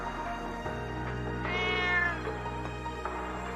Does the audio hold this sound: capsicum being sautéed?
no